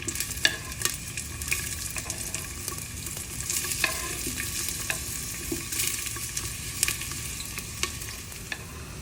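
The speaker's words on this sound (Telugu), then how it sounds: "ఆనియన్ పచ్చిమిర్చి వేసి బాగా వేయించుకోండి" Onions and green chillies fry in a little oil in a pressure cooker, a continuous close crackling sizzle with frequent sharp ticks as a spoon stirs them; no one speaks.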